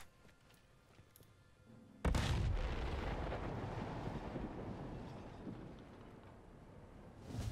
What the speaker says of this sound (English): V2 will fire, but the capsule won't open.